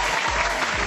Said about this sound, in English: this applause is for Marty only